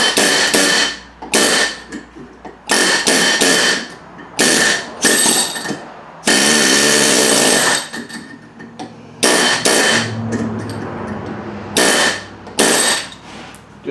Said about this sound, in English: Or you can use a air chisel if you're kind of a power tool kind of guy, and just bump it up